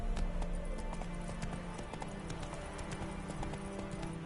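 Horse Roach's hooves in The Witcher 3, a fast continuous clip-clop gallop at moderate loudness over a busy game ambience.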